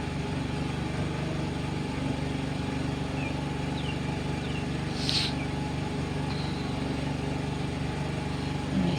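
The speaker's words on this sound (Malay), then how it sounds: "Bising tu bunyi generator." A generator powering a raft house at night drones steadily in the background, a constant low mechanical hum under faint ambient night sounds with no talking.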